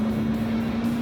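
Engine of a Renault 5 Turbo 2 held at a steady, loud, close drone for a brief moment, with a constant hum and no talking.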